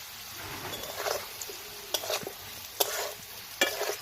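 Potatoes are lightly fried in a pan, sizzling up close while a spatula scrapes and stirs in several quick strokes, and no one speaks.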